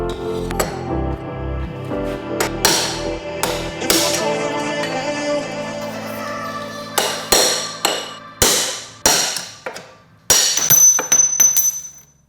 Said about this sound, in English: Now we're gonna take a hammer and some various long pointy metal objects and knock